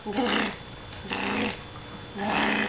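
A small female pet dog growls in three low, rumbling bursts, close and loud with short pauses between them.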